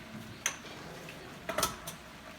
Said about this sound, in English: Give it a good stir, get it down in there.